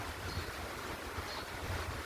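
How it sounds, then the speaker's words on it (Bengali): Light rain falls outside, making a soft, faint, even hiss with no voices. "এখন আবার বৃষ্টি পড়ছে। এটা হালকা হালকা বৃষ্টি পড়ছে"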